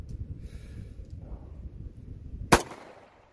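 A single sharp gunshot from an old Ruger .45 fired left-handed cracks out near the end, after a stretch of low rumbling background noise, and then decays quickly.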